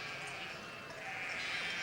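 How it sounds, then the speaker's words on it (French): Sheep and lambs bleat from a large farm flock of about 400 ewes at an educational farm, with overlapping wavering calls close by over a continuous background murmur. "Alors Christophe, il y a un troupeau de combien de brebis et combien d'agneaux ici?"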